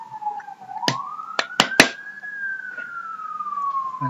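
Siren in the online game Spinz.io wails in a long rising then slowly falling tone, loud and close, broken by a few sharp clicks or knocks partway through.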